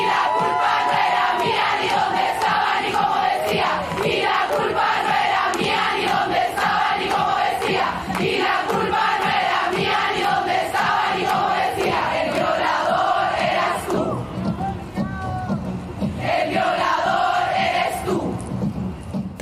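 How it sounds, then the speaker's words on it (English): A protest crowd yells, whoops and cheers loudly in unison along with forcefully chanted lyrics, a dense, continuous roar with rising shouts throughout. "crowds everywhere can't help but yell and cheer"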